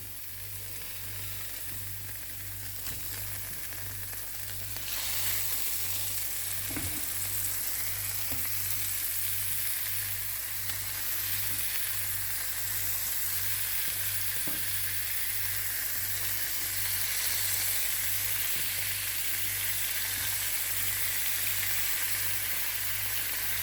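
Food sizzles loudly and steadily in a hot pan for deglazing with lemon for a tomato sauce, and the frying grows a little louder partway through. A utensil ticks faintly now and then.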